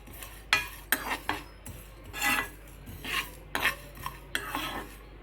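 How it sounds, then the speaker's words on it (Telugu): Mint chutney ingredients frying in a pan and stirred with a metal spoon: irregular scraping and clinking strokes against the pan over a faint sizzle, close and fairly loud. "ఇలా ద్వారగా వేయించుకోండి ఇట్లా ద్వారగా వేయితే చాలా బాగుంటాయి"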